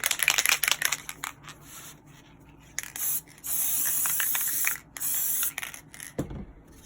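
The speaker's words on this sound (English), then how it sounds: "And now I'm going to spray it again." An aerosol can hisses in two sustained bursts of about a second each, preceded by rattling and handling noises and ending with a soft knock.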